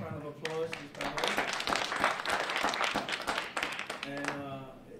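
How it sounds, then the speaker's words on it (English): Audience applause for a panel, a dense wash of clapping filling most of the few seconds, with a voice speaking briefly before it rises and again as it fades. "let's give a nice round of applause to the panel"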